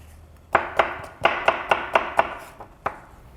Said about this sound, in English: I'm going to cut these into about 1/2-inch cubes so they cook nice and fast